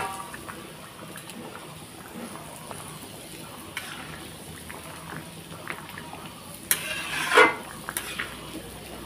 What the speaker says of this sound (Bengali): তো ঝোলটা বেশ টকবক করে ফুটে গেছে